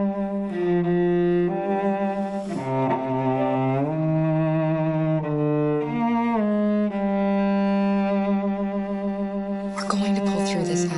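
A two-note motif built on the name Kara, layered as a melody over Kara's theme, with sustained tonal lines and harmonic chords held steadily, no talking.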